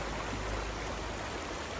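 A mountain river near Bukovel and Yaremche in the Ukrainian Carpathians rushes steadily, a constant broad hiss of flowing water, close and unbroken throughout.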